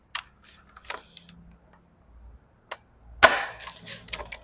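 A CYMA CM350 M870 airsoft pump-action shotgun fires one sharp, loud crack after some quiet handling clicks, followed by a brief rattling tail.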